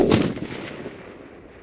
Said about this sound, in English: load another one. Shoot again.